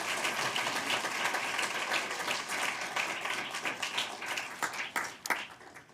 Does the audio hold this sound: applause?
yes